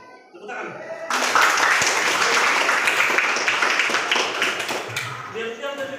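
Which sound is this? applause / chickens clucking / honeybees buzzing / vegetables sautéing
applause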